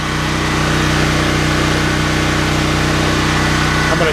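A Smarter Tools STGP-3500EB 3500 watt gasoline generator runs steadily close by, its loud, even engine drone holding constant without pause or voices.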